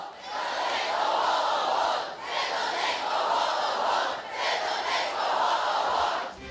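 A large crowd at a Ruslana tour stop in Donetsk chants a rhythmic cheer in unison, loud and sustained, in three roughly two-second waves with brief dips between them, with no separate speech.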